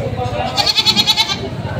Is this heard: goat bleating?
yes